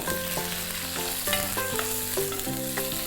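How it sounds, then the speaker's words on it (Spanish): Onion, garlic, tomato and green tomato fry in a pan at low heat, a steady close sizzle that holds throughout under background music, with no talking. "vamos a agregar la cebolla, el ajo y jitomate y tomate verde, y esto los vamos a freír aquí."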